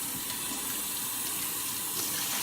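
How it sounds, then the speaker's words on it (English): Water streams steadily from a tap into a pot coated with leftover vegan pasta sauce, making a continuous, even rush at close range with no break. "So I put water in here to get the excess sauce off the side."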